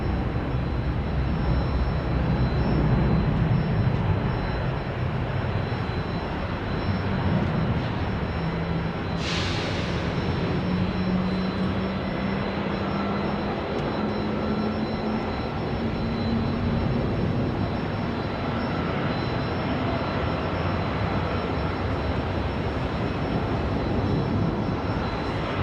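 A jet airliner rumbles loudly on the runway at Sydney Airport, a continuous broad engine roar with a slowly rising whine as power builds, close and steady throughout.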